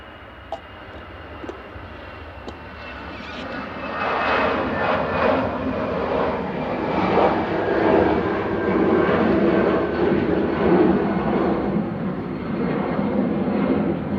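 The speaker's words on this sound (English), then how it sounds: "First departure on 23 right. This is the AIZD and A320 Classic." A Lufthansa Airbus A320 Classic takes off from runway 23 right at Manchester Airport, its engine roar rising sharply after a quieter start and then holding loud and steady, with a thin whine above.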